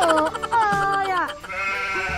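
Garut sheep bleating up close, a few wavering, drawn-out bleats in quick succession, loud and clear with no talking over them.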